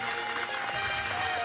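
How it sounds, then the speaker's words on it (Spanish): An audience applauds for Rosa, a steady, dense wash of many hands clapping that holds at an even level from start to finish, with no voices standing out over it. "El aplauso para Rosa, por favor"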